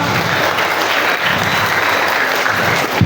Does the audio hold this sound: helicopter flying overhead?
no